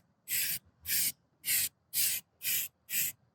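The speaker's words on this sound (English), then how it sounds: "Give a little spray over the top." Six short bursts of metallic silver aerosol spray paint hissing from a can onto old wood, evenly spaced with brief pauses between them, close up and fairly loud.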